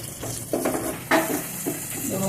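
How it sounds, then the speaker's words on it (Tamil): Onion with salt and leaves fries in a pan, a steady close sizzle broken by a few short scrapes of a stirring spoon, with a voice faintly present. "ஆனியன் ஒன்று ஃப்ரை ஆகிடுச்சு"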